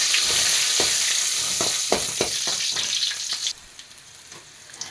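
Chillies and garlic cloves frying in oil in a pan, a bright continuous sizzle with a few clacking stirs, the hiss dropping to a softer crackle near the end.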